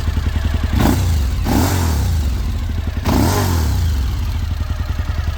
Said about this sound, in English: Got the illustrious tick on the engine